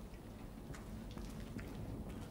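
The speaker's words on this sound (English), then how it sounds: "No, it's definitely raining." Rain falling in the video game Detroit: Become Human, a faint steady hiss of drops pattering on surfaces with a few scattered sharper splashes, distant and even, without speech.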